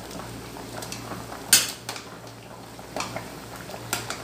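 A spoon clinks against a metal pot of fish sinigang soup, with a few sharp taps and scattered light clatters over a quiet kitchen hum.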